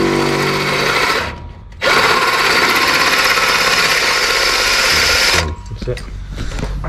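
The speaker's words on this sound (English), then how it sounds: "which is why we're having to use the compressor, which sucks even more. It's so fucking noisy." A loud, noisy air compressor drives an air tool on car brakes during a brake pad install on a Honda Civic FN2 Type R, a steady harsh roar broken by a brief dip near the start and easing off toward the end.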